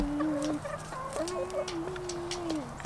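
Several backyard hens cluck and murmur near the listener in a steady run of rising and falling calls, with a few sharper notes mixed in.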